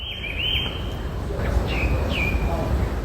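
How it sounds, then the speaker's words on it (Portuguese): A rufous-bellied thrush sings a few clear, sliding whistled phrases, moderately close, over a steady low rumble of background noise. "O sabiá-laranjeira é uma espécie que se adaptou muito às cidades"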